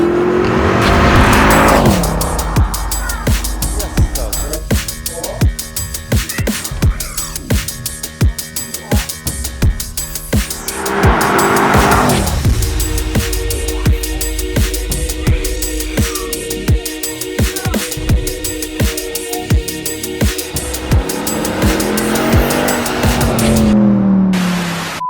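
A white Mercedes C63 AMG Black Series with a 6.2 litre V8 roars loudly and continuously, surging through hard revving pulls with rising and falling engine pitch and brief tyre squeal, with no talk.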